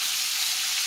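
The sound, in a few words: breaded hamburger steak frying in iron skillet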